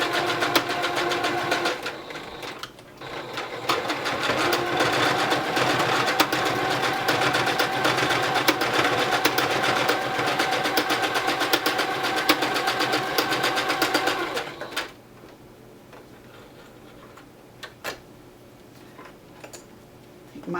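A sewing machine in need of a tune-up, making a pecking sound, stitches steadily with a fast mechanical whir for most of the stretch, then stops, leaving quiet room noise and faint movement.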